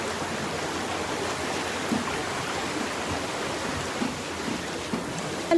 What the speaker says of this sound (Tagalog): Ang lakas yung alon ng tubig.